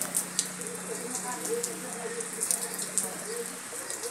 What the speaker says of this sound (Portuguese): agora meio dia tá chovendo de novo